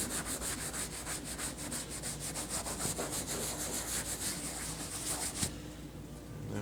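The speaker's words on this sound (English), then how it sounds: "We're just going to have to give it a little bit of agitation to get the leather cleaner into that" Brush or cloth scrubbing leather cleaner into a waxy leather surface, a steady rapid rubbing with rhythmic back-and-forth strokes, close and moderately loud, stopping near the end.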